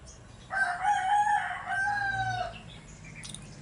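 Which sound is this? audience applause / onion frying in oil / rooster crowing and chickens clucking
rooster crowing and chickens clucking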